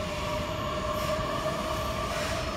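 A regional train sits or moves at a station platform, giving a steady rumbling roll with a sustained tonal squeal from wheels or brakes, continuous and moderately loud, with no voices.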